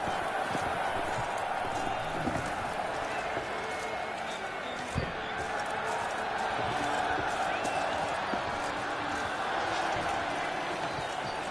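Horse hooves clip-clop steadily in The Witcher 3: Wild Hunt, a muted rhythmic trot under a constant wash of game ambience and music.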